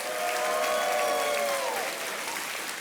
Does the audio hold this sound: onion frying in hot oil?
no